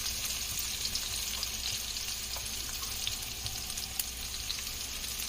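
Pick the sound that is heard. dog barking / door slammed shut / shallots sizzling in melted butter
shallots sizzling in melted butter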